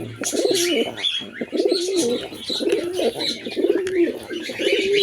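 Caged pigeons coo repeatedly up close, a rhythmic throaty burble recurring every second or so, with a few faint chirps mixed in.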